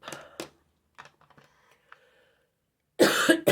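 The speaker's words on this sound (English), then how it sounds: "I've got a bit of a cough for some reason." Someone coughs during a quiet indoor stamping and colouring session, with a sharp double burst at the start and a louder, longer fit at the end. Faint light tapping sounds fall in between.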